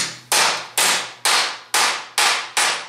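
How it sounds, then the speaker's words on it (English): A hammer planishes a sheet metal patch panel for a Chevy Blazer, six sharp, evenly spaced metallic strikes about half a second apart, each ringing briefly before the next, close and loud with no talk. "Planishing this a little bit."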